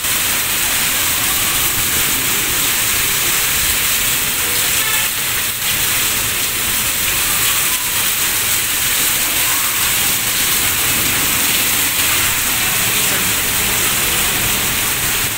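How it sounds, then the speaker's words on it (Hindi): Very heavy rain pouring down, a dense, loud, unbroken hiss that fills the whole stretch without pause. "बहुत तेज़ हो रही है भाई बारिश बहुत तेज़ हो रही है"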